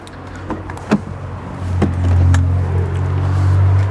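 Tailgate of a used VW Touareg opening: a few sharp clicks and a latch clunk, then a steady motorized hum as the powered boot lid rises, close by.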